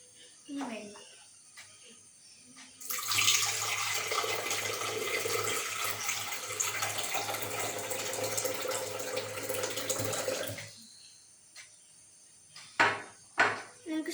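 Water pours steadily into a blender jar for homemade lemon juice with ginger, a continuous splashing stream lasting several seconds, bracketed by faint kitchen clatter before and after.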